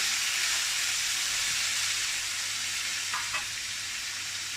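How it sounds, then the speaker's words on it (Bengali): Potato and pumpkin pieces lightly frying in a pan for a village-style Bengali pumpkin curry, giving a steady, even sizzling hiss throughout with no talking. "আলু কুমড়োটাকে ভেজে নেব হালকা করে।"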